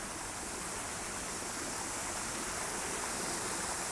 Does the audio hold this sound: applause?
no